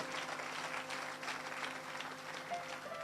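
A church congregation applauds throughout, a dense, steady wash of clapping with faint sustained musical tones underneath, at an even level with no pauses.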